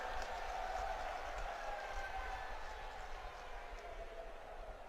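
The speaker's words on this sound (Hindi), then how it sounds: "एक बार जोरदार तालियों के साथ स्वागत और अभिनंदन।" An election rally crowd claps to welcome a speaker, a faint, distant, continuous wash of applause over a low rumble, with a tone or hum running through it and voices mixed in.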